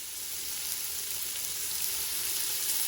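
Seasoned sausage browns in an Instant Pot, giving a dense, even hiss of sizzling fat that holds steady throughout without any talking.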